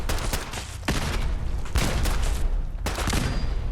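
Gunfire in the video game Fallout 4: loud, dense fusillades of rapid shots and booming bursts rolling through, with brief breaks between volleys and no talking.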